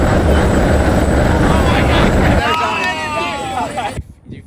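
Loud, steady helicopter rotor and engine roar with wind buffeting close to the microphone, voices talking underneath, cutting off abruptly near the end.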